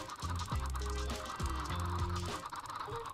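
Chickens cluck in a Minecraft-style survival game, a small flock bunched together giving repeated short squawks and clucks that overlap, close and fairly quiet over a low game backdrop.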